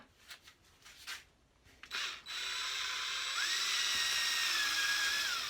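A power drill mixes a mixture for a mould: a few short clicks and bursts, then a steady high-pitched motor whine that runs continuously at low volume.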